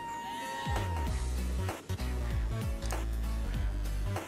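Sheep bleat in a sandy area of the video game Just Die Already. Several loud, wavering bleats repeat in close succession, with no other sound in between.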